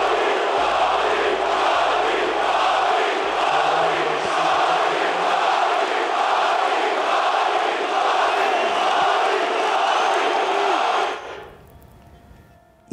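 A packed NBA arena crowd of nearly 20,000 roars and chants a player's name in a loud, rhythmic, sustained chorus, then the sound cuts abruptly to near silence near the end.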